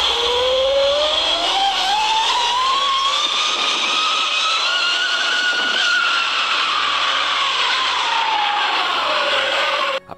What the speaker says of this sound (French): Et on va faire une petite accélération.